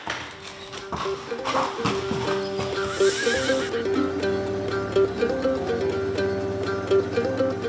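A Morgan horse neighs loudly and repeatedly with clear whinnying calls, over steady background noise and occasional hoof clip-clops nearby.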